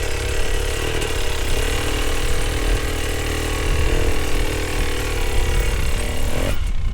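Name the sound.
hard enduro dirt bike engine while riding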